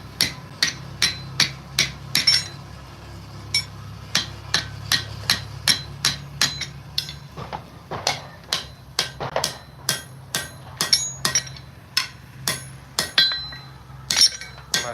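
Hammer striking metal at the edge of an anvil, sharp ringing clinks in a steady rhythmic series of evenly spaced blows, close and loud with short pauses between bursts.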